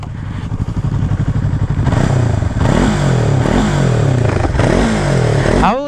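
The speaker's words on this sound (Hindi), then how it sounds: "तो एबे टिके गाड़ी रो एग्जॉस्ट नोट सुनी दबा।" A Yamaha R3 sport motorcycle idles with a lumpy, close exhaust burble, then its owner blips the throttle several times, each loud rev rising sharply and falling back toward idle.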